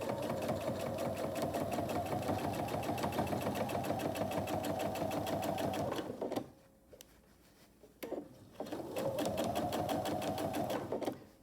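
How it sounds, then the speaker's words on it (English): A sewing machine quilts along a seam line on a braided table runner at 3.5 stitch length, a close steady whirring chatter that stops briefly for a few seconds, then resumes. "all I'm going to do is follow along this seam line right here with my presser foot"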